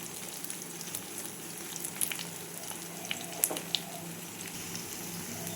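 An egg roll sizzles steadily in a pan, a beaten egg with a pre-toasted roti pressed on top, frying with a continuous close hiss and a few faint clinks and scrapes of a utensil.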